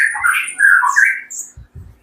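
A white-rumped shama (murai batu pastol) gives a loud, close run of rich whistled and squawking notes, sliding through varied phrases, with a few low knocks near the end.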